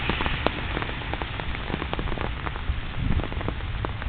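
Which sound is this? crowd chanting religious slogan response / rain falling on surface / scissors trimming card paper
rain falling on surface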